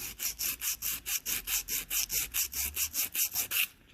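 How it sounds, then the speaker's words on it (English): Glazed brake shoes are scrubbed with 80 grit emery cloth in quick, even back-and-forth strokes, a rhythmic rasping about four per second. It sounds close, with no talking. "I'm taking some 80 grit emery cloth"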